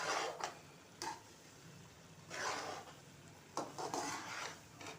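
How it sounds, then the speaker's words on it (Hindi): A spoon scrapes and taps against a pan while semolina roasts in ghee, producing intermittent clinking strokes in irregular bursts, close up with no talking. "आहिस्ता आहिस्ता चम्मच चलाते हुए सूजी की भुनाई करनी है।"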